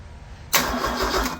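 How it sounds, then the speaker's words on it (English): A rebuilt Ford 428 V8 cranks and fires for the first time, jumping from a low rumble into a loud, steady running roar that holds close and strong without talk. "Let's see what happens when I hit the starter button."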